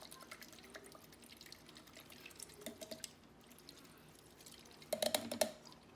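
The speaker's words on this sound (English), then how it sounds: "I'll go ahead and let it spin some more in the liquid" A makeup brush spins in cleaning liquid inside a bowl, giving off faint watery swishing and dripping, then a short, sharper burst of splashing and clatter near the end.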